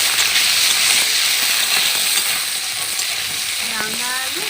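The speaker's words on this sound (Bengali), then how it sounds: "রাঙা আলুগুলো আমি একটু তেলের মধ্যে ভেজে নেবো" Sweet potatoes frying in oil with panch phoron and dried chillies, a loud, dense, close sizzle with stirring running throughout and a brief creak near the end.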